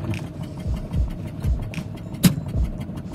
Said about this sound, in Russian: Завелось, но троит.